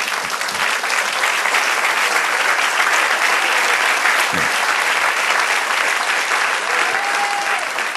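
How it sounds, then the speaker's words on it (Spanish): A church congregation breaks into loud, continuous applause for the Lord, a thick wash of many hands clapping without pause, with faint voices mixed in. "dale un aplauso al Señor"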